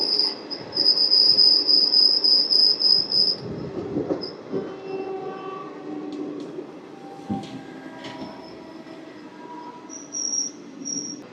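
The Rayagada–Guntur Express rolls along the rails with a rumbling clatter and a high metallic wheel squeal early on, gradually easing to a quieter rumble.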